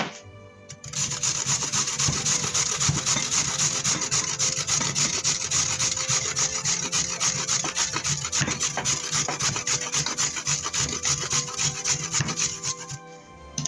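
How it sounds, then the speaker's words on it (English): A sweet potato grated by hand in a home kitchen, with continuous rasping, scraping strokes that are close and loud and run almost unbroken for about twelve seconds after a quiet start. "Gonna chop those off before I grate."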